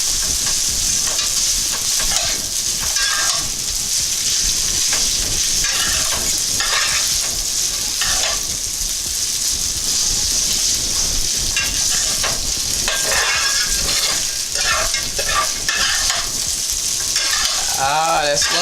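Garlic herb spaghetti tossed in butter in a hot pan makes a loud, continuous sizzle, with rhythmic scraping and stirring strokes repeating close by and no voices.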